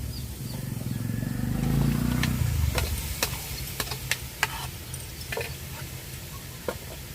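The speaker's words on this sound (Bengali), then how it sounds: "এবার আমি তার মধ্যে দিয়ে দেবো ম্যারিনেট করা চিকেনগুলো" Chicken marinated in yogurt, salt and turmeric dropped into a pan of spice mix with no oil, a loud low rush as it lands, then a steady sizzle with light clicks of stirring, close by.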